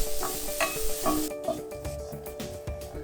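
Poha and oats are stirred in a pan with soft scraping and rubbing strokes in a loose rhythm, up close over a faint sizzle and a low hum.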